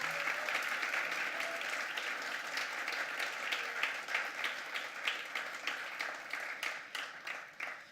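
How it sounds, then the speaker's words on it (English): An audience at a student government induction ceremony applauds the executive board, a moderate, even round of clapping that gradually thins into scattered individual claps. "Let's give our entire e-board a well-deserved round of applause."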